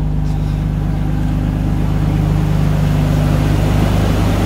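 A Nissan Skyline R34 GT-R V-Spec engine runs steadily just after startup, a loud, continuous low rumble with a smooth idle drone throughout and no talking.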